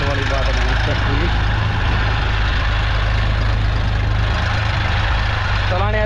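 An Eicher tractor engine runs at a steady idle, a loud, constant low diesel rumble with even throbbing, close by, while voices speak briefly over it.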